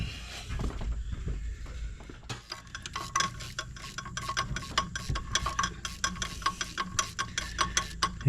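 A socket wrench ratchet clicks while removing a turbo bolt on an LBZ Duramax diesel engine, giving quick, close, fairly quiet rhythmic ticking that settles into a steady repeated pattern over faint background noise.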